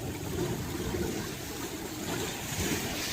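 Seawater washes and splashes around a swimmer at Akumal, a continuous close rush of churning water and surf with low rumble and no pauses.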